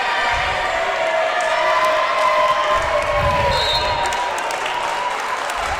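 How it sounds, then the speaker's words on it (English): A large indoor crowd at a college volleyball match between Averett and Meredith roars and cheers steadily, with shouts and whoops over a continuous loud murmur and occasional squeaks and thuds from the court. "Crowd gets loud again as Meredith serves"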